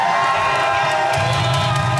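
A large crowd at a fight cheering and shouting continuously, a dense roar of many voices that swells louder partway through, with scattered whoops rising above it.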